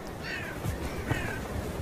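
A couple of harsh crow caws ring out over a noisy outdoor background, spaced about a second apart.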